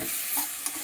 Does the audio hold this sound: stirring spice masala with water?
yes